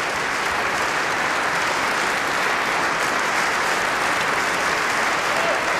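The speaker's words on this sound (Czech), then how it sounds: "Publikum stále aplauduje ve stoje." Dense, loud, sustained applause from a concert hall audience giving a standing ovation to a pianist after a Prague piano recital, steady and unbroken throughout.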